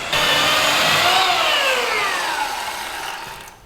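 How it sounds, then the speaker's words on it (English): Power tool whining as a tree is trimmed in a backyard, one sustained buzzing cut whose pitch sags and slowly fades out, fairly loud and alone. "he's trimming a tree back there which John started on but wasn't able to fin"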